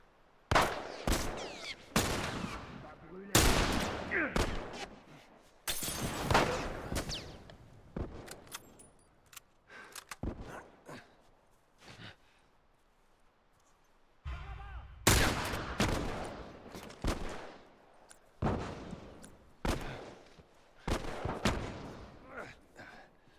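Gunfire in The Last of Us video game, repeated bursts of shots and impacts in clusters separated by quieter gaps, with people talking between the volleys.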